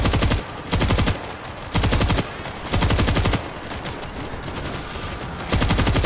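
A shotgun fires at zombies in the video game World War Z, with loud blasts in rapid repeated bursts and short gaps between each volley.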